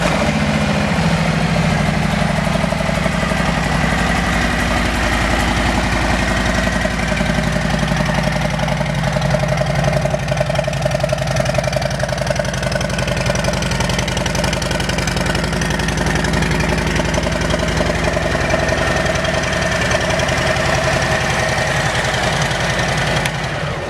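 A 2017 Harley-Davidson FLHRXS Road King Special with a Vance & Hines exhaust idles loud and close, a deep, steady, lumpy rumble holding for over twenty seconds with no voices over it.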